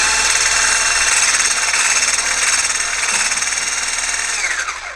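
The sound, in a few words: whisking cooled oil into whipped shea body butter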